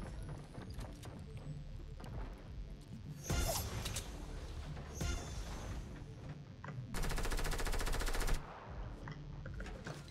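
Gunfire in the battle royale game Fortnite: faint sporadic single shots, then a couple of short bursts and a sustained rapid automatic volley near the end, all fairly quiet in the mix.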